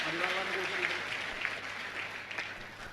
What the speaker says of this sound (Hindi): इसलिए एक बार फिर से इनके सम्मान में तालियां बजाएं।